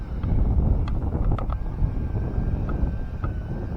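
Strong wind buffets the microphone in a steady, heavy low rumble on an open farm, with faint mechanical clicks now and then and no voices.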